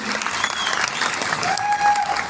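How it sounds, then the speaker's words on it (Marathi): An audience at a live program bursts into loud, continuous applause, a dense wash of many hands clapping close by for the whole stretch. "एकदा जोरदार टाळ्या झाल्या पाहिजे CMD सरांसाठी."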